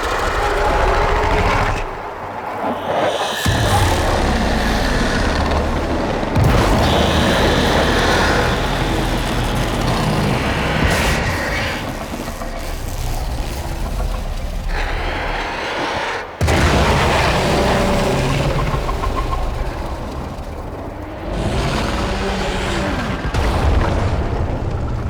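A video-game explosion sends debris tumbling down, a long, loud stretch of booming rumbles, crashes and clattering impacts that continues with short pauses.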